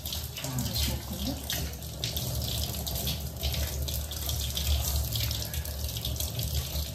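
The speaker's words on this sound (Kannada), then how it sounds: "ಹ್ಯಾಂಡ್ ವಾಶ್ ಮಾಡ್ಕೊಂಡಿದ್ದೀವಿ." Tap water runs steadily into a sink while hands are washed, a continuous close splashing hiss with small shifts as the flow is disturbed.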